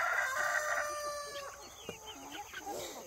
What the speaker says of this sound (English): They're both roosters